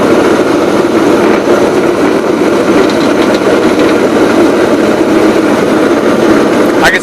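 A Gravely 8163-T riding mower running with its PTO mower deck engaged and no load, a loud, steady roar heard up close that holds constant throughout.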